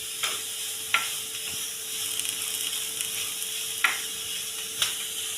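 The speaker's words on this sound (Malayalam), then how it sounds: "നന്നായിട്ട് ഇളക്കി യോജിപ്പിച്ചു കൊടുക്കാം." Fish fry mixture being stirred in a pan over low heat, a steady soft sizzle punctuated by four or five sharp spoon scrapes and clicks at uneven intervals.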